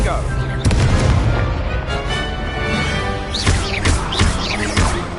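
Confringo blasting-spell explosions in a Harry Potter dueling game burst as loud booms and crashes amid a busy layered game soundtrack, with a cluster of sharp impacts near the end and a game announcer's voice.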